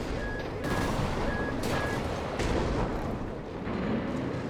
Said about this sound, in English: Oh no, someone's shooting at me.